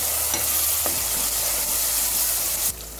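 Ground masala paste for fish korma fries in oil in a pan, giving a steady loud sizzle with a few soft stirring scrapes near the start and a sudden drop in level near the end.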